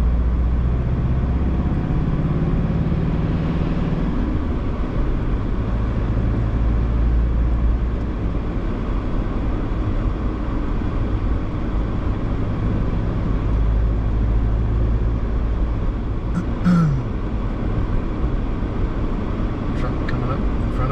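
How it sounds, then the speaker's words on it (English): A truck approaches on a foggy mountain road above a river valley, its steady engine rumble and tire noise droning continuously under the wind throughout, with no clear pass-by peak. "Truck coming up in front of us."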